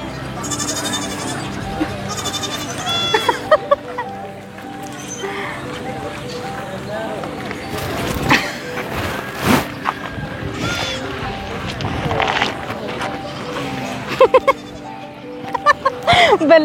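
Sheep bleat at a farm, with several short, wavering calls scattered through the stretch, some close and loud, while people talk nearby.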